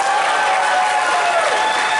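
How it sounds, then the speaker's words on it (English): Steady, dense applause from a convention crowd at the Megaplex 2019 opening ceremonies honoring fighting-game player Sonic Fox, an even sustained roar of clapping with faint whistle-like tones threaded through. "Big round of applause, everybody."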